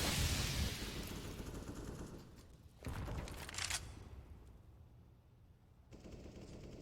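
Bursts of rapid gunfire from a Counter-Strike match play at low volume, a dense rattle at the start, then sharper clustered shots with short pauses between them, and no voices over them.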